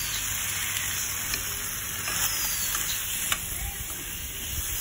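Cumin powder sizzles in hot oil while small fish fry in a pan. A dense, close, steady crackling sizzle runs throughout with faint stirring clinks and no clear speech.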